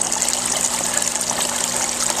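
Backyard garden waterfall with water gushing steadily after a valve is opened, a continuous close, bright splashing rush with a faint low hum beneath.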